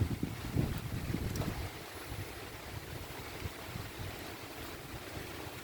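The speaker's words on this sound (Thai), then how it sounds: "อากาศเย็นลมพัดเย็น" Steady cold wind rushing past during heavy rain, with gusty low rumbles buffeting the microphone, loudest at the start and easing into a constant blustery roar.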